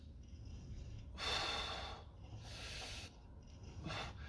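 Forceful exhalations during a shoulder press workout in a school gym, three strong breathy bursts, each about half a second to a second long, with quieter rasping breaths between them, close to the microphone.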